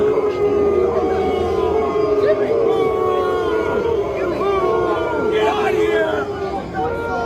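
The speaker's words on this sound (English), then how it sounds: "Tim Walz getting booed as he leaves the Michigan game." A large crowd at a Michigan football game boos and jeers loudly as a departing politician's motorcade leaves, a dense roar of voices with rising howls and a siren-like wail running through it.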